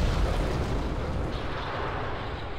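Rocket engine ignition in Kerbal Space Program, a loud sustained roar with a heavy low rumble that holds steady and eases slightly over a few seconds, no talking.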